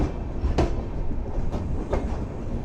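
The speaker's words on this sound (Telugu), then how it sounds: "తిరువనంతపురం చెన్నై సెంట్రల్ మెయిల్ అండి." Thiruvananthapuram–Chennai Central superfast Mail train, hauled by a WAP-7 electric locomotive, rolling along the rails with a steady heavy rumble and a couple of sharp metallic clanks, loud and close.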